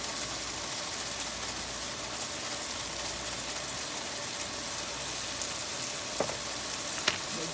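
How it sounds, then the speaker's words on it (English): Rice and vegetables with garlic and dry thyme sizzle steadily in a pot, a continuous close frying hiss, with a couple of brief sharp spoon scrapes near the end as the mix is stirred. "Let's give it a stir."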